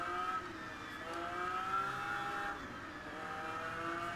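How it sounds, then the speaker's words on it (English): Pagani Zonda engine in the racing video game Test Drive Unlimited Platinum, a faint steady hum that rises and falls gently with a whirring note in the background, without talk. "They've got that kind of whirring noise in the background as well, which is very Pagani."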